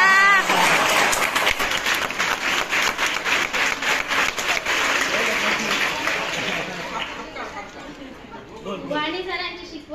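A school audience at a Sai Baba Sansthan educational complex retirement honour ceremony breaks into loud, dense sustained clapping that fades toward the end, with crowd chatter underneath.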